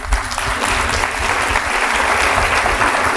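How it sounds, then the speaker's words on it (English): A conference audience at a forum on military caregivers gives a steady, loud round of applause for the panelists, dense and sustained throughout with no voices over it. "let's give a round of applause to our panelists"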